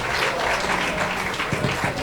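An audience at a ceremony at Osu Castle in Ghana applauds the Bamboo Orchestra, a dense, even roar of clapping close by that fills the whole moment.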